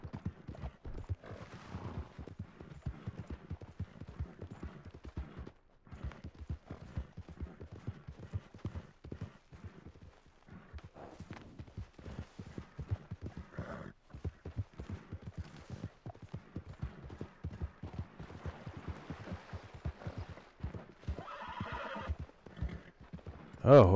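Horse neighing and hooves clip-clopping in Red Dead Redemption 2, a steady run of hoofbeats with whinnies heard near, near-continuous through the clip, with a brief louder burst at the very end.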